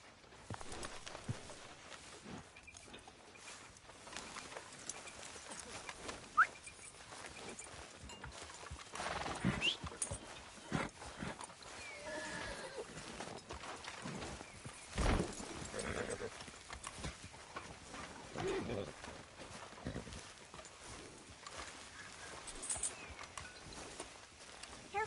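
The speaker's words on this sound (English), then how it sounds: "Careful with that horse, It's Arthur." Horse hooves clip-clop steadily through a Red Dead Redemption 2 scene, with a few neighs and whinnies rising above the busy, continuous soundscape; faint voices drift in now and then.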